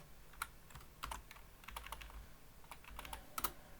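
Rapid, irregular keystrokes on a computer keyboard while C++ code is written in Visual Studio, with quick clusters of clicks and short pauses, close and fairly quiet, with no talking.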